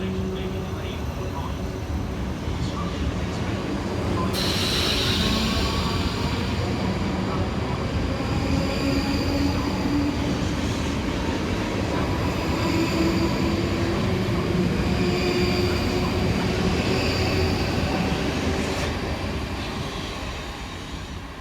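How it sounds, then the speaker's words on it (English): Two coupled South Western Railway class 458 electric multiple units pass on a Reading to London Waterloo service in the Thames Valley, a loud sustained rumble with rising motor whine and rhythmic wheel clatter over some twenty seconds. "kicking us off will be 458 425 and 458 423, working the 1549 South Western Railway service from Reading through to London Waterloo"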